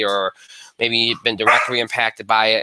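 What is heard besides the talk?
dog barking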